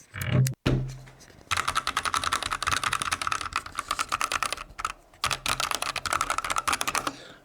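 Keys clatter on a Drop Rohan mechanical keyboard, fast continuous typing in two bursts with a brief pause between, crisp and close.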